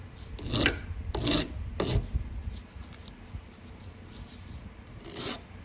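Material worked by hand with an awl, producing rough scraping, rasping strokes in several distinct bursts, close and fairly loud, with quieter rubbing between them.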